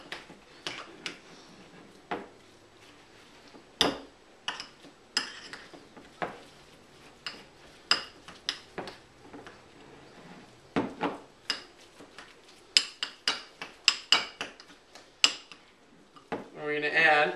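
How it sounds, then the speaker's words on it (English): Ingredients for a quinoa veggie burger get mixed in a bowl, giving irregular clacks and scrapes of a utensil against the bowl, some sharp and close, over a quiet background. "I'm going to mix all this stuff up"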